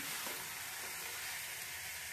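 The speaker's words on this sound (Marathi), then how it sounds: "चिकन परतून घेऊ आपण।" Chicken pieces sautéing in a pan, a steady close hiss of sizzling frying with a soft stir near the start, continuous and even, no voices.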